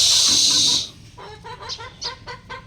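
Backyard chickens and chicks cluck and peep in short bursts close by, with no talking, after a brief hiss of noise at the start.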